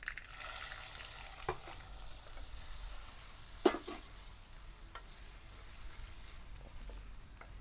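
Whole spices, asafoetida and onion sizzling and crackling in hot oil, a steady soft frying hiss with occasional stirring clicks and one sharper knock partway through.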